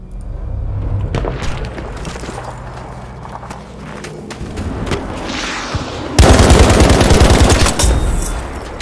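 Rapid automatic gunfire in the video game Battlefield 5, with distant shots and explosions followed by a loud, sustained burst of close machine-gun fire in the last few seconds.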